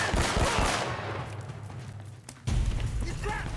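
Gunfire in Uncharted: Drake's Fortune, heavy bursts of automatic fire and impacts up close at the start, tailing off, then another loud burst; a player talks over the shooting.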